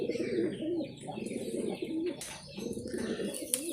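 Pigeons coo softly and repeatedly nearby, low throaty calls overlapping in a steady rhythm with faint chirps in the background.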